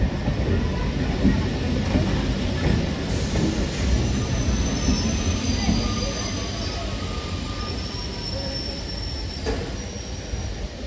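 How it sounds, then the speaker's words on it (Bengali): A local commuter train on the Majerhat to Dattapukur line, running toward Kolkata station, rumbles steadily from inside the carriage, with high-pitched wheel squeal and a faint mechanical whine over a continuous low roar. "গিয়ে এই ট্রেনে উঠছি।"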